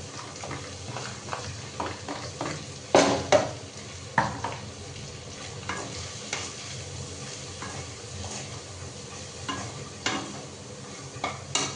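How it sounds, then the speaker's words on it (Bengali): Vegetables and egg fry in a pan with a steady close sizzle while a utensil stirs them, producing repeated scraping strokes and a few louder clinks against the metal, with no voices. "দেখো সবজিগুলো নাড়তে থাকতেই হবে।"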